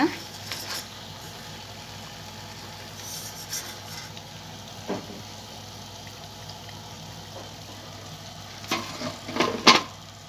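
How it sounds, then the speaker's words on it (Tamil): Tattai, flat fried rice-flour snacks, sizzling in hot oil in a pan after being turned over, a faint steady crackle with a few brief stirring scrapes near the end. "எல்லாத்தையும் திருப்பி விட்டாச்சுங்க. மறுபடியும் ஒரு 2 மினிட்ஸ் வேகட்டுங்க."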